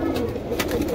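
Sharangpuri pigeons coo softly in a short burst, a low throaty murmur close by with faint rustling around it.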